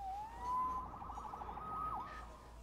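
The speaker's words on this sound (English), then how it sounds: "Saved by the siren." A police siren wails in a Spider-Man video game, one rising then sustained wavering tone over about three seconds, moderately distant and fairly quiet.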